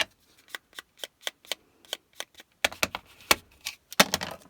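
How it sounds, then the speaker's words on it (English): Paper is trimmed for a handmade card with a paper trimmer, producing a run of crisp, close clicks and short cutting snaps, spaced at first and then quicker and louder toward the end, with no talk. "So I'm going to trim it just a tiny, tiny bit."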